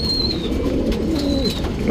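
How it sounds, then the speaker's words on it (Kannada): Soft, low cooing from a nearby male Tambral pigeon, with a couple of faint chirps above it. "ಇದು ತಾಮ್ರಾಲಲ್ಲಿ ಗಂಡು ಹಕ್ಕಿ"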